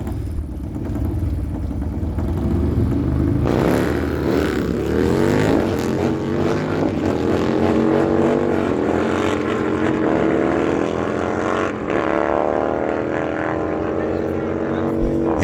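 Harley-Davidson motorcycles, a Road Glide and a switchback Harley, launching side by side at a drag strip, engines roaring loud and rising in pitch through gear changes over a steady high drone.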